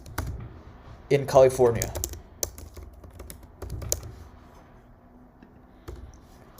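Python code being typed on a computer keyboard, a quick run of clustered keystrokes followed by scattered individual taps, close and fairly soft, with a voice speaking briefly partway through.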